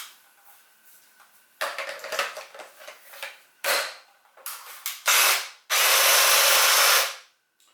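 A Ryobi 40V cordless hedge trimmer snaps and clatters through branches in short bursts, then its blades run freely in a loud, steady buzzing whine before cutting off.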